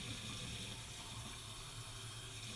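Hot water poured into a glass cup to soak a badger shaving brush, a short steady splashing trickle, faint and close, with no talk.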